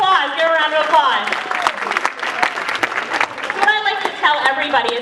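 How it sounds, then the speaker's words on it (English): Audience at a motivational business event applauds in a continuous clapping wash while a voice talks loudly over it throughout. "Give her a round of applause."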